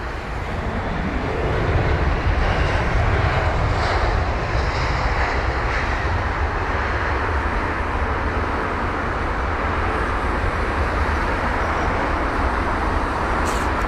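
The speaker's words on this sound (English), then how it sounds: "So here we have the British Airways A319 from Newcastle." British Airways Airbus A319, registration G-DBCE, arriving from Newcastle at London Heathrow as flight BA1327, gives a steady, loud jet engine roar that holds broadband and constant throughout, with no talking.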